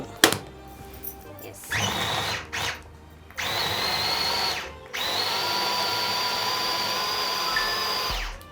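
An electric food chopper whirs loudly while finely chopping onions, running in several short bursts, then a long steady grinding run with brief pauses, with a voice talking now and then.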